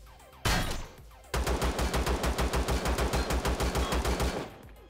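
Rapid automatic gunfire from the Empyrion video game, a short opening burst followed by a long, evenly pulsed stream of loud shots lasting several seconds before cutting off, with no talking.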